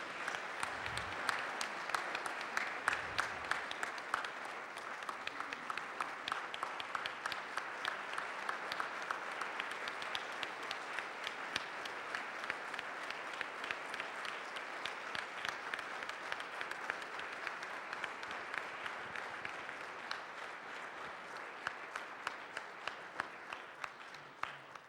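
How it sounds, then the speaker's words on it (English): A seated audience gives long, sustained applause for John and Kathy Farrell accepting an Advocate for Innocence Award, even, dense clapping that carries on steadily for the whole stretch at a moderate distance, with a faint low bump or two early on. "Please give John and Kathy Farrell a large round of applause."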